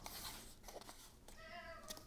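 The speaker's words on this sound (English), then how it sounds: "Here comes my kitty." A pet cat meows faintly indoors, one drawn-out rising-and-falling call near the end after some quiet shuffling sounds, soft and close.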